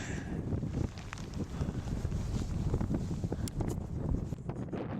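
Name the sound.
wind on mountain summit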